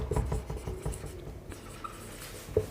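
Chalk or marker taps and scratches against a board as a teacher writes numbers, a soft, uneven run of short strokes close by in a quiet room.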